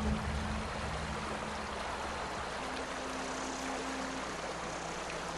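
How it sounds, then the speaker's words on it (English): A flowing stream in The Outer Worlds video game runs as a soft, continuous watery wash, with a low steady hum underneath and no voices. "That water noise is going to make me want to pee."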